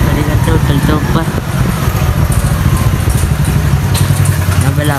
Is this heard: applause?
no